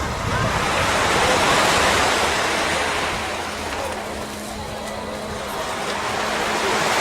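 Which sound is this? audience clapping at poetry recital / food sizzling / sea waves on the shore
sea waves on the shore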